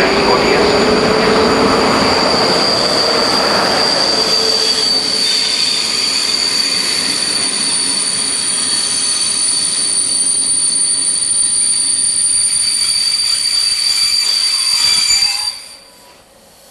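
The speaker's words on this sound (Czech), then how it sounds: "Vlak je připraven k odjezdu." A passenger stopping train bound for Český Těšín pulls out of a Czech railway station, its wheels squealing in a sustained high whine over rumbling running noise that stays loud, then cuts off abruptly near the end.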